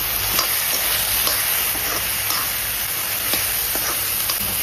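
Ridge gourd curry with tempering spices fries in a pan with a steady, loud sizzle, broken by repeated scraping and stirring strokes at close range.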